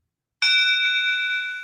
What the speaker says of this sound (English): That's just a classic work bell.